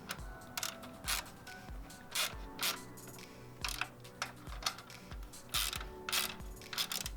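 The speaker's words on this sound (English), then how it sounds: "I'm gonna go ahead and torque these down now." A torque wrench tightening the intercooler mounting bolts on a Subaru WRX, with repeated sharp ratcheting clicks in short bursts and metallic tool clatter, close and fairly loud with no talking.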